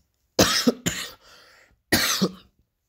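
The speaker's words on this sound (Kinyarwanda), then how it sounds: "mumbabadire inkorora" Three sharp, loud coughs close to the microphone, the first two back to back, then a short raspy breath and a final cough after a pause.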